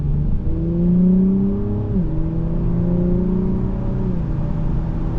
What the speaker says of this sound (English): we are out driving this 2023 Acura TLX Type S, performance red